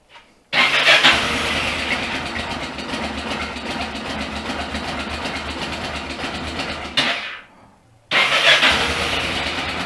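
A Yamaha XTZ 660 Ténéré 3YF motorcycle engine, with a clutch problem and a float needle stuck open, runs steadily off its proper revs, loud and close. It cuts out briefly near the end, then picks up again.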